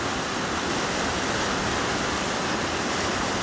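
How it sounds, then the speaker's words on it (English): White water rushes through a river current in Alaska, crashing over a big rock, a loud, unbroken roar of broadband noise close by with no pauses. "All that white water flowing right here, rushing."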